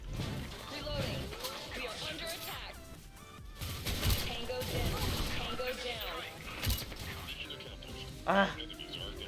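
XM8 submachine gun firing in the online shooter Special Force 2, with rapid bursts and single shots cracking in the mix while someone talks over them throughout.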